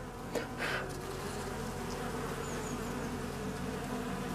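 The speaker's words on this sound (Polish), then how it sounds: "Tu na dole jest pszczoła z pyłkiem." Honeybees hum and buzz around an open beehive in an apiary, where queen cells have just been placed. A continuous close swarm drone carries a brief louder buzz of a single bee passing near at the start.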